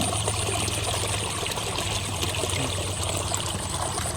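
A stream flows steadily near a fishing spot after heavy overnight rain, with a constant close rush and trickle of water and no talking.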